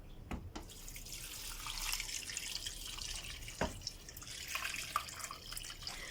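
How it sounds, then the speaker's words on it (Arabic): Water poured into a pot for Moroccan bissara soup, a continuous splashing trickle with a few sharper clinks and bumps, close and moderately loud, no talking. "وغادي نزيد الماء اللي غادي تغطى ليا"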